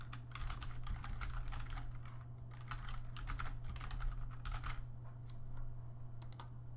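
Steady clicking of keys on a computer keyboard as a new password is typed in, a continuous run of quick, close keystrokes over a low background hum, with no talking.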